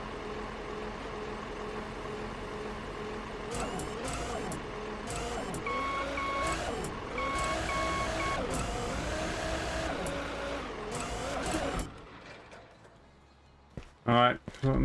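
Truck reversing beeps from the Beer Factory video game, a steady run of repeated electronic tones over engine hum and game noise, cutting off near the end before short clicks.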